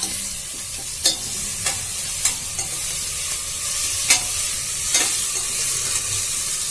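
Homemade ginger garlic paste stirred into mutton curry in a pan, a soft continuous sizzle with a few distinct scraping clicks of the spoon against the vessel at irregular intervals, close and steady with no talking.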